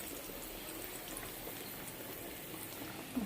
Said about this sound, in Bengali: ভাতও ফুটে গেছে